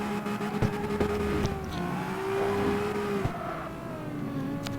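A car in the CarX Street racing game revs and slides through a drift, engine pitch rising and falling with a short tire screech, loud and close, with no one talking.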